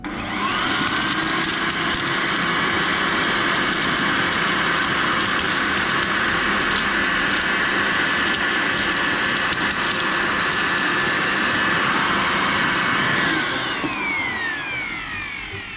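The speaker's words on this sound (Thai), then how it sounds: "แล้วดูดฝุ่นตรงนี้ดูนะครับ" A Total TB2066 600 W electric blower running in vacuum mode on speed 3, sucking up dust: a loud, steady motor whine and airflow roar that holds for about thirteen seconds, then tapers slightly at the end.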